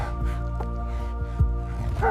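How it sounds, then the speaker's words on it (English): Chained guard dogs barking wildly, a few irregular loud barks and yips close by over a steady low hum, with no talk. "Guard dogs chained to wooden doors barked wildly"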